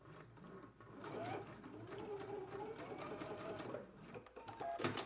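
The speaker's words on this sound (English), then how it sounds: "let's go to the sewing machine and we can baste this in place first" A sewing machine basting fabric hums in a continuous mechanical whir with a rapid needle patter, close and fairly quiet, running for several seconds before slowing near the end.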